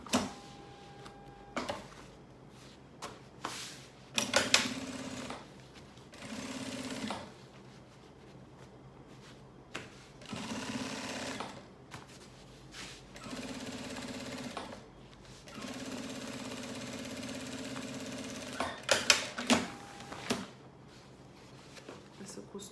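A sewing machine stitches fabric in several bursts of rapid mechanical whirring separated by pauses, some with handling clicks, heard close. A person talks in between runs.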